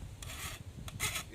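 Cane knife blade stroked against a sharpening stone or file, two or three short scraping rasps with brief pauses between, close and quiet.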